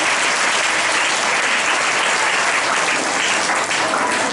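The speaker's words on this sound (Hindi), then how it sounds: "एक बार ताली बजाओ यीशु मसीह की।" A church congregation claps in sustained, dense applause at a Hindi-language Christian worship service, loud and continuous throughout with no speech over it.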